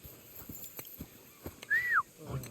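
A single rising-then-falling whistle calls for a horse in the medieval game Kingdom Come: Deliverance 2, clear and fairly close over faint background ticks and soft game ambience.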